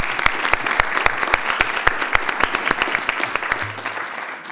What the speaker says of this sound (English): But we can still clap.